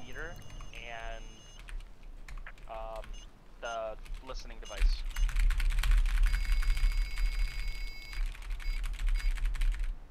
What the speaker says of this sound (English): You typed all that real fast, bro.